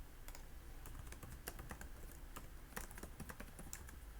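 Rapid keystrokes on a computer keyboard while editing in Adobe Premiere Elements, a steady run of light clicks with a few sharper taps, close and fairly quiet.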